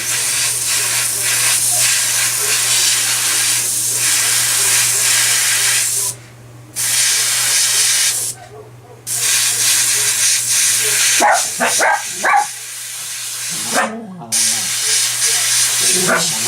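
An airbrush sprays with a steady, close hiss that pauses briefly a few times, over a low constant hum, with faint scattered sounds in the background.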